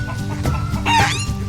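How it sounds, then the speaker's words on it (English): Chickens cluck in a steady, busy stream with a short crow-like call rising above them, loud and close with no talk. "Some chickens."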